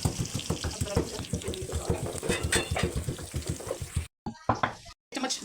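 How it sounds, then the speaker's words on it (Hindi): Chopped onion and garlic paste fry in a pan, with a steady sizzle and a rapid series of clatters and knocks from stirring that cut out briefly near the end. "एक प्याज दरमियाने साइज का फ्राई होने दिया और ये लहसुन का पेस्ट बना देंगे"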